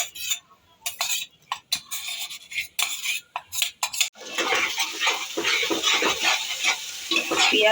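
Onion paste fries in hot white oil in a wok; sharp stirring scrapes and clinks come in bursts at first, then a loud continuous sizzle takes over.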